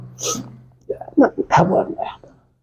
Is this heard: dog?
yes